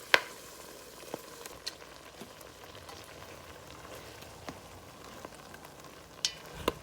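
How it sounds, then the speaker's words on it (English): Cranberries simmering on low heat in a pot on the stove, giving a steady soft bubbling hiss with scattered small pops and ticks, fairly quiet and close, no voices. "just put them on a low simmer and just let them be able to sit there and cook and release all their flavors"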